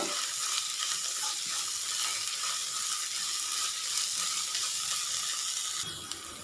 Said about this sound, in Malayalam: ഇതും കൂടി ഇട്ടിട്ട് നന്നായിട്ടൊന്ന് വഴറ്റി കൊടുക്കാം